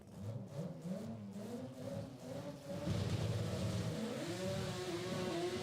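A drag racing car accelerates hard down the track, a loud roaring engine that rises steadily in pitch and swells louder partway through, with no talk over it.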